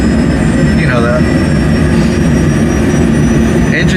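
Helicopter engine and rotor in flight through a snow storm, a loud steady broadband roar with a high whine running throughout, constant and close, with a voice briefly audible over it.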